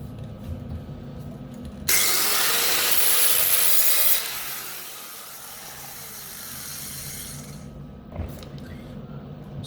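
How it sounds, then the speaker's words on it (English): An angle grinder is run down a metal weld, a loud, close, rough roar for about two seconds that fades into a longer dying whine as the tool spins down, then quiet. "But I'll grind this one down"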